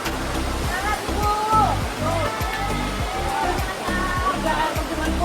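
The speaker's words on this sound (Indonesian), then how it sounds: "3 air terjun Bu." Rushing water from a group of three waterfalls at a glamping and rafting site, a steady broadband roar throughout, with people talking loudly over it.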